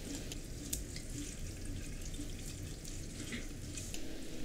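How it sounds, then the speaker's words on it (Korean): Steady pouring of about 100 ml of water into a makgeolli mash of steamed rice that has absorbed its liquid, a continuous close splashing trickle without speech. "물을 100ml 정도만 더 넣어 주었습니다."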